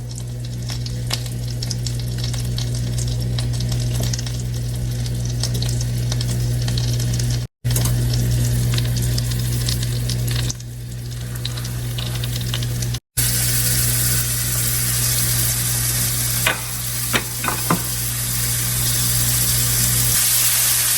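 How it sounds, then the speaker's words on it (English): Four chicken pieces for honey garlic glazed chicken sear in a hot pan with a loud, steady sizzle under a constant low hum, broken by two short gaps and a few sharp pops late on. "Get all 4 pieces in, and we're going to sear them off on one side"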